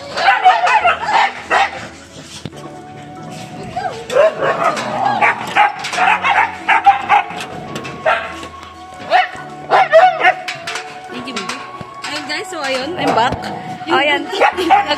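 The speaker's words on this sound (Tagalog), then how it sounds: "Yan po yung dogs. Namiss kami ng dogs." Several dogs bark, yip and whimper excitedly on arrival home, short overlapping barks recurring throughout, close and loud under frequent talking.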